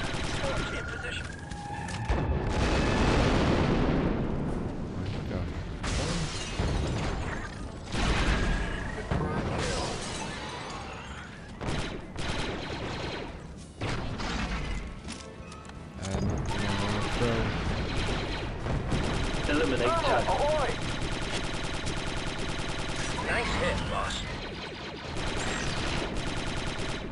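Heavy weapon fire in the video game Star Wars Republic Commando: loud, repeated blasts and shattering impacts mixed with rapid gunfire bursts throughout a busy battle, with squad voices calling out over the din.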